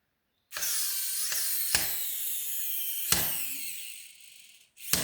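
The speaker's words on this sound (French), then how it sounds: "je suis obligé de commencer à prévisser avec mon tournevis" A screwdriver drives a screw by hand into a part of a Mysterious Cities of Gold collector model, giving a steady, close scraping whir broken by a few sharp clicks as the grip resets.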